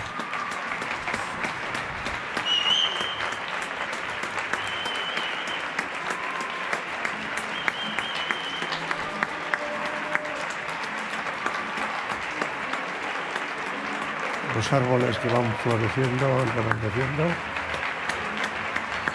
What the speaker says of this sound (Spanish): Día 16 de aplauso